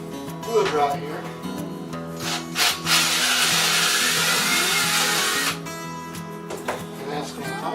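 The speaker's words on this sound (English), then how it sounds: "Then we're going to drill a hole in the wood right here." Electric drill boring a hole through a wooden shelf during an over-the-range microwave installation, with a sustained loud whirring grind for a few seconds, surrounded by shorter scraping and handling noises.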